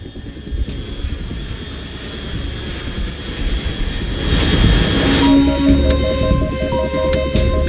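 An aircraft engine in the video game Metal Gear Solid 3 gives a loud, steady droning roar that swells slightly midway, joined near the end by pulsing electronic tones.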